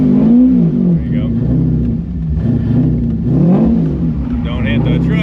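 A 500-horsepower C5 Corvette engine revving as it climbs a hill, rising and falling pitch with a deep rumble, while someone talks over it.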